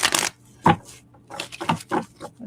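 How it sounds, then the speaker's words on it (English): Tarot cards being shuffled by hand, several short crisp riffling bursts with brief pauses between them, close and clear, with no talking. "And 2 more shuffles."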